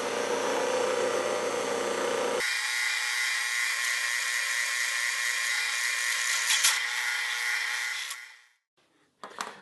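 Handheld router with a bit cutting a 1/4 inch plastic workpiece held by a wooden clamp, a loud high whine that shifts pitch as the cut begins, runs steadily, then spins down and stops, with a brief clatter after.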